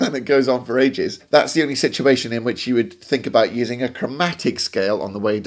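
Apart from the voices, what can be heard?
No everyday noises stand out.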